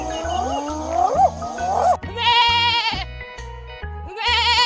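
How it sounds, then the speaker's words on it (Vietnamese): A goat bleats in a series of wavering, nasal cries. A steady thumping musical beat runs beneath, and another animal call comes first. "Con dê."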